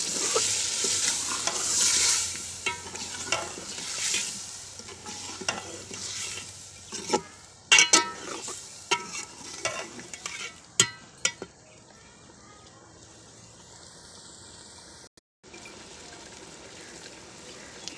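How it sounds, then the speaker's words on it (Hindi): Potatoes and peas frying in a pan with a splash of water, a steady sizzle under repeated scraping and clinking of a spoon stirring, the sizzle fading near the end. "हल्का हल्का पानी का शामिल करके इनको भूनते जाना है"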